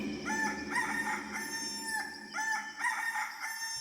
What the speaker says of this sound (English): he heard a cock crowing in the distance and realised there must be a farmyard nearby